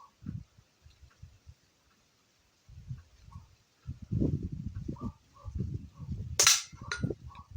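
A small gas pistol, just repaired, is test-fired once with a sharp, loud crack near the end, preceded by low rustling and handling noises.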